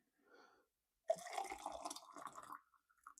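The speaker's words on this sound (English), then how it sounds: "just going to pour myself some incredibly boring green tea" Green tea pouring into a cup, a steady close trickle of liquid lasting over a second that tapers into a few drips in an otherwise quiet indoor setting.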